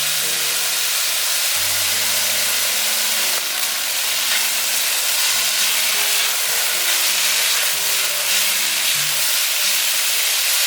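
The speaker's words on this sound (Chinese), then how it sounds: "小黄瓜大约炒了2分钟左右，可以把马铃薯放进来。" Cucumber and potato stir-frying in hot oil in a home kitchen for a vegan dish, giving a steady, close sizzle with faint stirring and a low hum, with no talk throughout.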